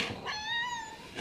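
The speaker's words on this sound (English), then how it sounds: "Who's a good kitty?" A single cat meows once, a clear, drawn-out, slightly rising and falling call lasting about a second, close by and alone.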